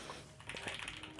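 Rapid typing on a Simpler60 mechanical keyboard with foam inside, a close, steady run of muted, slightly thocky keystrokes with no talking.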